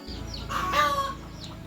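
A short, close call from a native village hen rises and falls in the middle of the clip over a low steady background.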